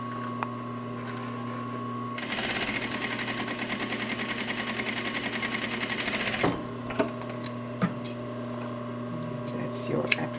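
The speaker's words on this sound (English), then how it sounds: "you are going to sew them as close to the edge as possible" A sewing machine stitches appliqué fabric close to the edge, running in a steady rapid whir for about four seconds and then stopping, with faint handling clicks afterward.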